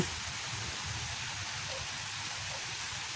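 Steady rain falls evenly at a safari park, a constant soft hiss with no voices, moderately quiet and unbroken throughout.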